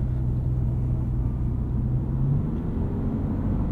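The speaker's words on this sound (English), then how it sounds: "Really good off-the-line acceleration with the CVT" A 2024 Subaru Impreza RS with a CVT pulling away from a stop, heard from inside the cabin: a steady low engine drone and road rumble, continuous and even, with a faint rising hum and no talking.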